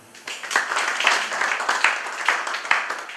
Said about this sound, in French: Merci, cher public, de les encourager dans leur mission, avec encore une fois un très bel applaudissement.